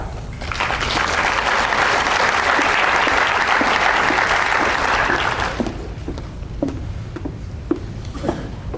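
An audience at a 4-H county fair contest gives a full round of applause, steady and dense for about five seconds, then thinning to scattered individual claps.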